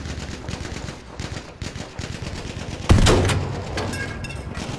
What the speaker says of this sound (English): Me and Coke are shooting it.